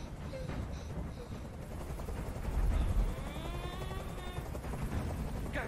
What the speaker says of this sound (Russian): меня бесит этот звук! Прикажи им, чтобы вертолет убрался!